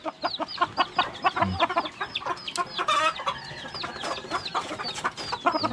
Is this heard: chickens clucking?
yes